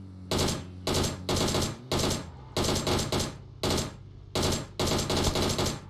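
Automatic gunfire in the PUBG Mobile battle royale game, loud close bursts of rapid shots in about eight separate volleys with short gaps between them.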